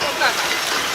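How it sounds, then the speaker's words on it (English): Rain falls steadily on a football pitch during a school league match, a dense, even hiss with no clear breaks. "I'm a bit concerned, Brent, if this rain continues. This ground, I don't think it can take very much more water"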